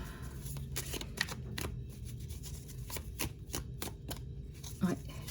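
Oracle cards are handled and shuffled in a steady run of soft riffling flicks and slaps, close but fairly quiet, under faint background noise.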